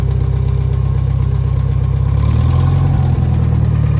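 The engine of a Farmall 404 tractor runs loud and close with a deep, steady idle rumble that rises slightly as it is given a little gas.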